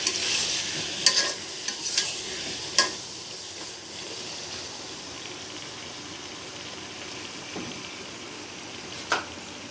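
Mango pickle stirred and cooked slowly over low heat in a pan, a soft steady sizzle with scattered louder scraping stir clicks, close and alone without talk.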